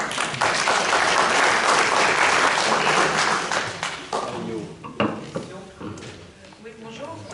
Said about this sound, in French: donc je pense que ça s'applaudit